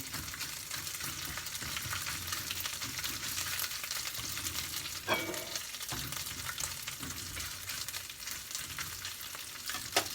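Swai catfish frying in hot oil until crispy and golden, a steady, dense crackling sizzle that runs evenly throughout with a few sharper pops, close and fairly loud with no voices.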